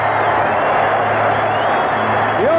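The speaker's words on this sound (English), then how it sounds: "Listen to this crowd, a standing ovation" A baseball stadium crowd rises in a standing ovation at a Royals–Yankees playoff game, a loud sustained roar of cheering and clapping that fills the whole stretch, with a whistle or whoop rising near the end.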